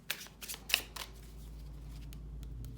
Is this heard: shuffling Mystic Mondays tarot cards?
yes